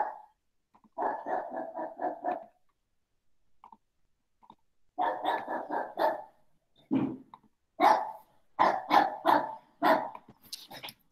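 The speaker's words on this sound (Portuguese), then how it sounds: "Vocês não reparem no meu cachorro gritando aqui." Pet dog indoors barks in quick bursts of rapid yelps, pausing, then resuming with louder, sharper barks close to the microphone.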